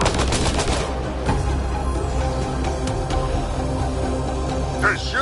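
Enemy sharpshooters in a video game pour out dense, continuous gunfire with rapid cracks and booms layered over battle noise, loud and steady throughout.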